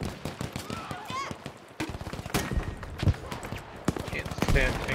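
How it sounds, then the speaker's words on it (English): Machine gun fire in Battlefield V, rapid bursts of shots rattling through most of the stretch with a few heavier blasts, while someone talks over the action. "Machine gun's laying down."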